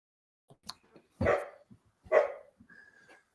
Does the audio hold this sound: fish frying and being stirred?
no